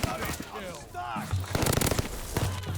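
Welgun submachine gun fire in Call of Duty: Vanguard, with rapid close bursts of shots in the second half, loud and mixed under excited talk.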